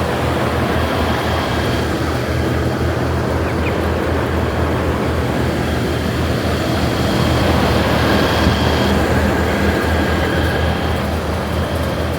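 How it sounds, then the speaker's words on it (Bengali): Large ventilation fans, three of four running, in a controlled-environment poultry shed give a loud, constant broadband roar with no breaks across the whole stretch. "চারটা ফ্যানের মধ্যে তিনটা ফ্যানই কিন্তু রানিং"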